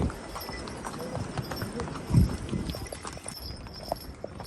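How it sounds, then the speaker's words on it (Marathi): Horse hooves clip-clop with irregular steps while climbing the steep Pissu Top mountain trail on the Amarnath pilgrimage route, moderately near, with one heavier thud and outdoor background noise. "आता आम्ही घोड्याने पिसू टॉप चढतोय."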